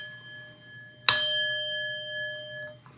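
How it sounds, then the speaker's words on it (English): One sharp gong strike rings out, followed by a sustained bright metallic tone that decays slowly over a couple of seconds, alone against a quiet hum. "Oh, we got the gong."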